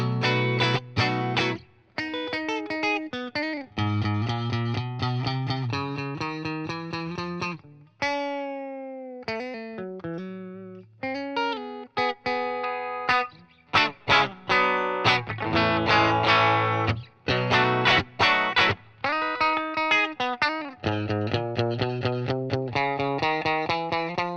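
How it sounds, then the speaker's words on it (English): A distorted electric guitar on its bridge pickup, through a Poly Ample overdrive pedal, plays a lively riff with crunchy, sustained chords and quick picked runs, saturated and loud, with no voices. "You can hear that bridge pickup really drive it."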